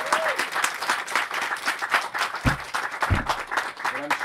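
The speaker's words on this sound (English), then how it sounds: "So let's give our panelists a round of applause for theorizing the web." An audience claps for the panelists at the end of a conference session, a moderate patter of applause with a couple of sharper knocks, while a voice talks over it.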